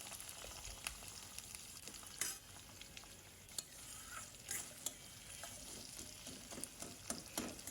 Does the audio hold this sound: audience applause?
no